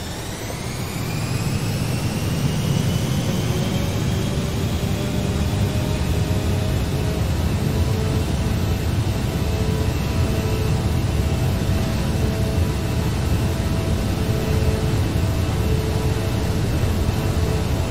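Four jet engines of an Aerosoft DC-8 roar steadily at full power through a takeoff roll in a flight simulator, a loud, continuous rumble with rising whine tones and no voices.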